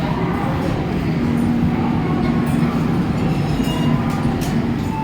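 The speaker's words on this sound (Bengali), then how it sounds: "তো ঢুকে গেছে আমাদের ট্রেন" An express train from Kolkata pulls into a railway station platform with a loud, continuous rumble and rolling clatter of wagons, while people's voices murmur in the background.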